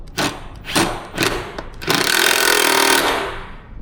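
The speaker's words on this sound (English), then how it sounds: "Now we have the 10 wrench." Hand tools at work on a Kove 450 Rally motorcycle during a dealership first service: a 10 mm wrench gives three short clattering ratchet bursts, then a longer steady scraping run, loud and close with no talk.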